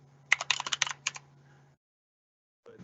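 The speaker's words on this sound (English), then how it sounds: "If I could type." A burst of quick keystrokes on a computer keyboard at a programming talk, about a dozen close, crisp clicks over a faint steady hum, then a pause with no talk.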